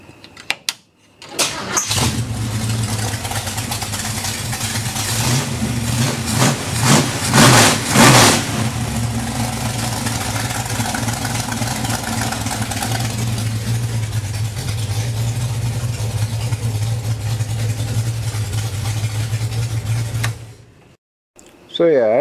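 A T-bucket hot rod engine runs steadily after its fifth break-in cycle, a loud continuous idle with a burst of revving near the start, then settling into an even rumble for about twenty seconds.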